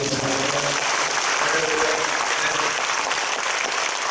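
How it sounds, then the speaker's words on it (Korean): A church congregation at a peace and unification prayer meeting applauds a pastor, a dense, even wash of clapping from many hands that holds steady throughout, with a faint voice underneath at the start. "김한성 목사님 박수 한번 해주세요"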